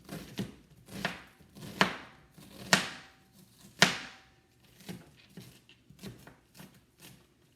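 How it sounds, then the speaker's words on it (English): An onion is chopped on a cutting board, with about a dozen crisp knife strikes in an uneven rhythm, some louder than others, heard close and alone. "So I'm just cutting my onion."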